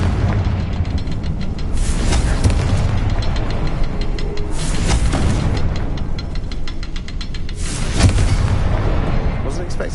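Repeated Confringo fire-spell blasts in the Hogwarts Legacy video game, three loud booming explosions spaced a few seconds apart over a dense rumbling battle backdrop.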